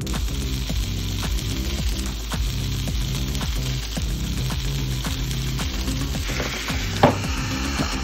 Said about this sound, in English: Now on this side, we're going to put our burger patty. And on this side, oh yeah, some bacon.